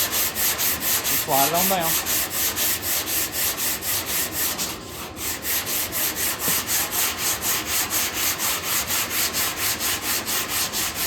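Steady back-and-forth rasp of a sanding block worked across the metal tailgate of a Chevrolet C10 pickup during bodywork, using fresh 120-grit paper; rhythmic strokes continue throughout, with a brief spoken remark near the start.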